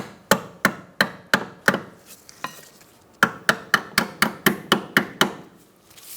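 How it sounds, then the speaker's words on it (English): A small hammer taps a spring clip into a rear brake hose fitting on a 2004-2009 Mazda 3, making sharp, close metallic knocks in two quick runs of about five and nine evenly spaced taps, with one fainter tap between them. "You're going to use a small hammer and just tap that in."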